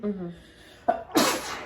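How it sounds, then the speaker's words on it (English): One sharp sneeze bursts out close up after a short murmured sound and a quick intake of breath. "Bless you."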